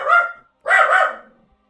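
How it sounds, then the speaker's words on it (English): Dog indoors giving two loud, close barks separated by a short pause, the second longer and trailing off. "Just give me one moment while Louis barks."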